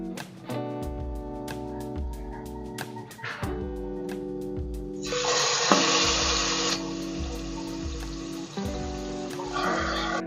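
Beef ribs searing in a pressure cooker pot, with crackling sizzle and steady tonal hum, bursts of louder frying spitting in the middle and near the end.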